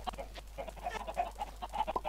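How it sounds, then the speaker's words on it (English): Minecraft chickens clucking on a chicken farm, a steady run of repeated short clucks and chirps at moderate loudness, with no talking over them. "Now you can hear the chicks."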